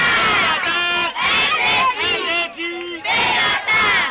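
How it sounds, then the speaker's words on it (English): A crowd at a Nigerian tax awareness event cheers loudly with shouting, whooping voices that rise and fall in waves, close and continuous throughout. "Let's give her a round of applause."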